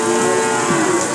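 A single loud, close cow moo sounds at a Bangladeshi village cattle market.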